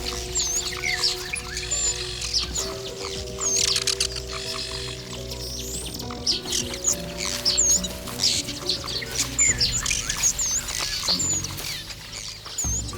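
Many birds chirp and call repeatedly in the Luangwa valley, a dense overlapping chorus of high tweets and whistles over a steady low background hum, fairly close and constant throughout.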